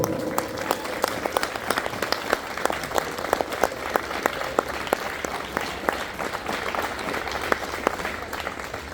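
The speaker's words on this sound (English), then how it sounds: "Can I please have a massive round of applause for your winner" Audience applause for the winner of a local karting championship at Trafford Park, Manchester, with clear individual claps standing out over a continuous wash of clapping that holds steady the whole time.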